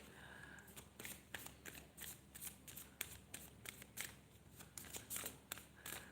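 Tarot cards shuffled and drawn from the deck, a run of crisp riffling snaps and slides in uneven bursts, close and fairly quiet with no talking.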